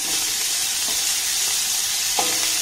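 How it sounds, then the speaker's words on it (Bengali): Chopped onions frying in oil in a pan with green chillies, a steady bright sizzle throughout with a faint stir or scrape near the end. "লঙ্কা আর পেঁয়াজটাকে একটু ভালোভাবে নাড়াচাড়া করে ভেজে নেব"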